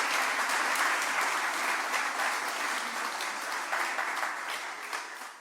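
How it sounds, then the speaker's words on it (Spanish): Applause from a church audience during a revival sermon, a steady wash of clapping heard at moderate distance that holds for several seconds and tapers off at the end. "mandemos un aplauso a nuestra gente en América Latina"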